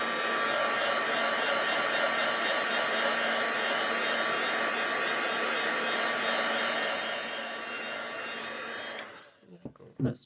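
A heat tool blows steadily and loudly for about nine seconds while drying ink on a stamped craft bauble, its broad whooshing roar cutting off abruptly and followed by a few faint handling clicks.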